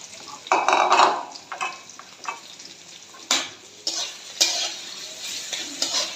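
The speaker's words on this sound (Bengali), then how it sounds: "চিকেনগুলো আমি পেঁয়াজ আর রসুনের সাথে ভেজে নিব" Chicken pieces fry with chopped onion and garlic in a pan while being stirred, giving uneven bursts of sizzling and scraping with clinks of a utensil against the pan.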